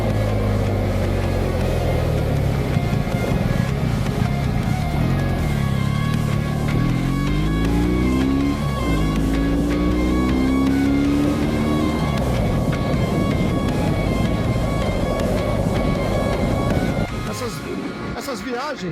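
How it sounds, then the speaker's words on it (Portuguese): A BMW GS 1250 Adventure motorcycle riding along, a constant loud engine drone with wind rush and a rising then falling pitch as it accelerates, easing off near the end. "É hora então de eu falar das características e qualidades da minha companheira, a BMW GS 1250 Adventure."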